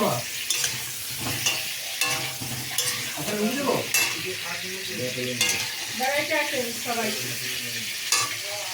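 Potatoes fry in a pan with a steady sizzle, broken by repeated scraping and stirring of a utensil against the metal.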